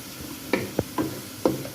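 Onions frying in a pan for a ghiya tori bhujiya, with a few distinct stirring scrapes and taps over a faint sizzle, no voices.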